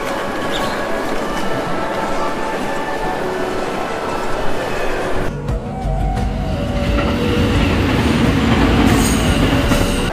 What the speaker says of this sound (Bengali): কিছুক্ষণ পরে ট্রেন ছাড়ল।